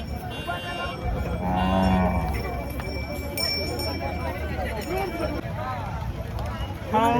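Bullocks moo at Loha cattle market in Maharashtra amid a busy outdoor crowd, with a low drawn-out call near the middle over steady market chatter, hoof clatter and distant voices.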